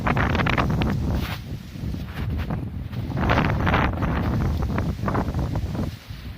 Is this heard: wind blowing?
yes